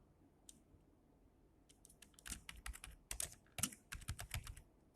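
Fingers tap the keys of a computer keyboard, starting with a single press and then quick clusters of sharp, close clicks in uneven bursts.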